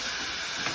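Fried dumplings sizzle in a pan over a low flame, a steady hissing fry with a bright, even texture, brief and fairly loud, with no voices.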